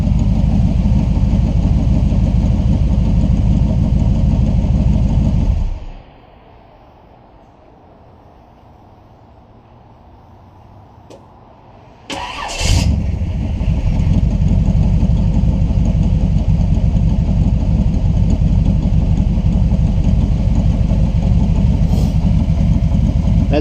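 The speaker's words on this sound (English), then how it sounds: "Well, it's been idling for about 15 minutes now. Should be good and hot." Car engine idling steadily after a high-torque mini-starter swap, loud and close, cutting out for several seconds before restarting with a sharp burst and resuming its even idle.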